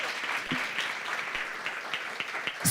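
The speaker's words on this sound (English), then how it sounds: "one more round of applause" Audience at a women-in-business event applauds steadily, a dense, even patter of many hands clapping at moderate distance with no talking over it.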